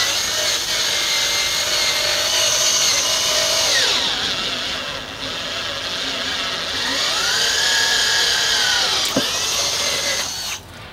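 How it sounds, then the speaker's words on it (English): A Makita cordless drill whines loudly as it bores holes with an auger, its pitch sagging under load twice and recovering, with the motor stopping at the end. "So we got 2 holes out of this drill"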